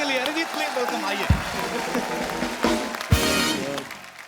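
Applause from a studio audience greeting a singer on a comedy show rises in uneven bursts, mixed with crowd noise and a couple of sharp thumps, mid-loud.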